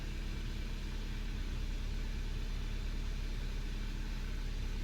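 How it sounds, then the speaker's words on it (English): A 2012 Kia Rio with a faulty crankshaft position sensor idles roughly with a slight misfire, a steady low engine drone, close and fairly quiet with no talking. "I can tell this car has like a little misfire going on."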